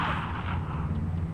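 A burst of gunfire in a Batman video game, a brief loud volley of shots and booming impacts in a police scene, with no talk over it.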